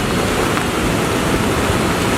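Swollen river rushing in full flood after heavy rain near a seven-tier waterfall in Tigalingga, a steady loud broadband roar of churning water with no break, close and continuous throughout.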